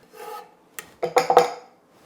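A utensil rasps and scrapes against a bowl as herbs are worked into softened unsalted butter seasoned with kosher salt and coarse black pepper. There are a few short, close rubbing strokes with brief pauses between them.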